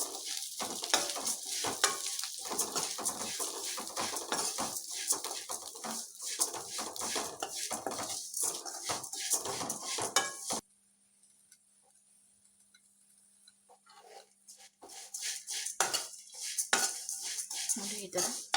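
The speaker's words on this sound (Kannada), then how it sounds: "ತುಪ್ಪ ಬಿಸಿ ಆದಮೇಲೆ 1 ಕಪ್ ಅವಲಕ್ಕಿನ ಹಾಕ್ಕೊಂಡು ತುಪ್ಪದಲ್ಲಿ ಫ್ರೈ ಮಾಡ್ಕೊತೀನಿ" Flattened rice (poha) frying in hot ghee in a pan, stirred with a utensil that scrapes and clinks steadily for about ten seconds. A near-silent pause follows, then the stirring and soft sizzling resume.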